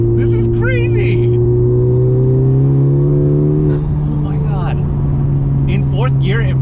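A modified Honda Civic Type R FK8 on pump gas accelerates hard in fourth gear, its engine droning loud and rising steadily, with someone talking excitedly over it throughout.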